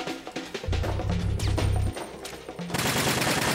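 Rapid video-game gunfire from Metal Gear Solid 2, dense bursts of automatic shots with a heavy thudding stretch in the middle, then a fresh loud volley near the end.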